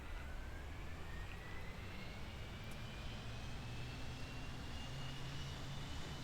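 Steady airplane engine drone from the Kerbal Space Program video game, a continuous broadband roar with a faint rising whine, holding level throughout with no talk.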